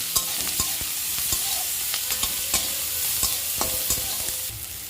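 Bay leaf, cumin and onions crackle in hot oil in a pan, a steady sizzle punctuated by frequent sharp scrapes and taps of stirring.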